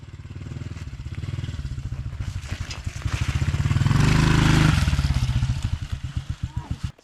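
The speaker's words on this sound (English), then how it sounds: "So right now we're trying to get his diesel started." A small diesel engine in a snowy backyard is pull-started, giving a loud, rapid chugging that swells to a heavy roar midway and then breaks into slower, uneven thumps as it dies back.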